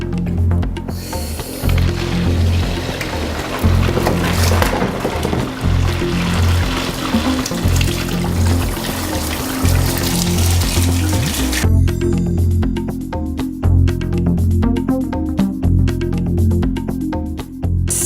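Cold water runs through the coil of a beer wort chiller, a close gurgling and rushing flow with sputtering bursts that grows smoother and quieter partway through, no speech over it.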